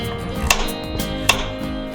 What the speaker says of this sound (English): Chop the carrots into small pieces.